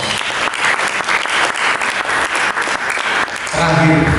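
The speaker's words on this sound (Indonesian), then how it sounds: "Mari kita berikan tepuk tangan bagi Yesus" A church congregation claps loudly and steadily during a worship service, with crowded rhythmic hand claps throughout and a swell of music or voices entering near the end.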